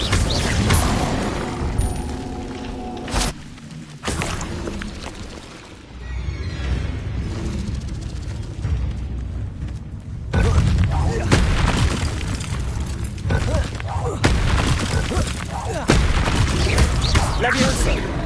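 Fire spell blasts from Hogwarts Legacy combat on PS5, loud booming bursts and crackling impacts repeating through a busy battle with dense game effects throughout.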